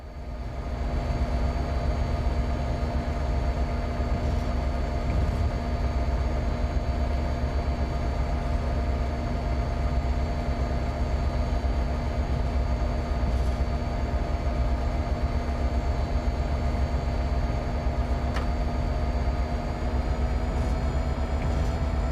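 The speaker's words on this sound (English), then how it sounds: "She's not the most powerful locomotive, this one." A train locomotive in a railway video game runs steadily with a constant low engine drone and a faint high tonal whine, loud and unbroken with no voices.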